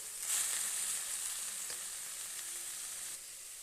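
Arai keerai spinach cooks in a pan on medium flame, a continuous soft hiss and sizzle with a faint stir partway through, close but quiet, no voices.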